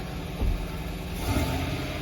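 A 2021 Chevy Silverado pickup with a 5.3-liter V8 idles with a deep rumble and revs briefly twice, close by, with no voices.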